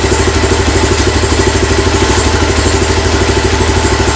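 A Lifan 175 motorcycle engine idling steadily after its carburetor was cleaned, a loud, close, even mechanical chug with light clatter throughout and no talking.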